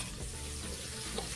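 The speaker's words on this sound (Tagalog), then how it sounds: "isunod na po natin yung ating sibuyas." Onions sautéing in a pan for a mung bean stew, a brief continuous sizzle with faint stirring, close and moderately quiet with no talk.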